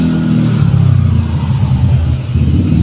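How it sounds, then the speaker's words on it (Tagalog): Motorcycle passing by outdoors, a loud close low engine rumble that holds steady and shifts slightly in pitch as it goes by, with no talking. "Meron lang guys padaan ng motor."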